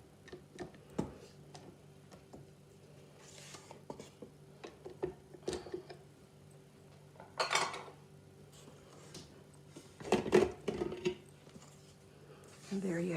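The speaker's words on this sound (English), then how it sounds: "I'm going to scrape down the beater" A spatula scraping down the beater of a mixer holding vanilla cake batter, heard as scattered clinks, taps and scrapes with short pauses between them and a voice talking in places.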